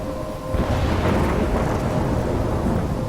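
Thunderstorm in the video game Life Is Strange: heavy rain with a deep rolling rumble of thunder that swells in loudly after a brief quieter start and keeps roaring.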